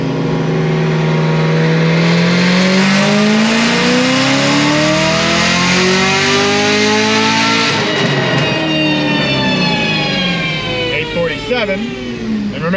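A 1000 hp stage 4 Chevrolet Camaro ZL1 roars under steady load on a dyno, very loud and close. Its pitch climbs smoothly, then falls away into a rough, fluttering idle as the throttle is released.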